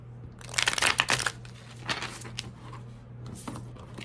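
Tarot cards riffled and shuffled on a tabletop, a dense burst of crisp papery crackling followed by a few softer card flicks, close and alone over a steady low hum.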